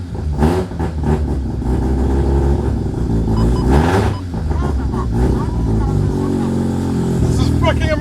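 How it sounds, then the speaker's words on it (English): A Mazda RX7 FD3S running on its base map after coming back to life, the engine loud and close with repeated revving surges, while people talk excitedly over it. "The car's running"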